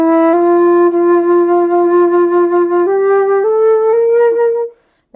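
Flute played softly in the low register with the same embouchure but less air, a short line of sustained low notes, close and solo, fading out at the end.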